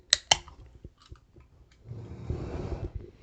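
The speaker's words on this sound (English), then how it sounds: "So let's open this up." A can of Monster Viking Berry energy drink is cracked open with two sharp clicks of the tab, followed by a soft hiss and a fizzy rush of carbonation spreading through the rest of the moment.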